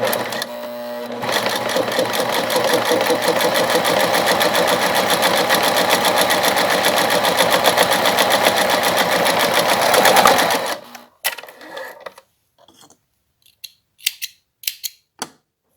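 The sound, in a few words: sewing machine stitching fabric for a double pencil case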